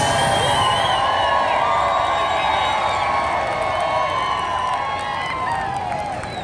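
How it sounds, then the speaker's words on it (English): A crowd at the Albuquerque Balloon Fiesta cheers during a hot air balloon launch, a broad roar of voices with scattered whoops and some clapping, steady and loud, easing slightly at the end. "The energy of the crowd is amazing, cheering everybody on as they go up into the air."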